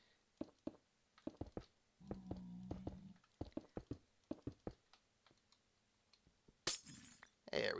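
Glass blocks are broken with a silk touch pickaxe in a Minecraft nether tunnel, giving quick crunchy breaking sounds. Rapid keyboard typing and clicking run through the clip, and a brighter burst comes near the end.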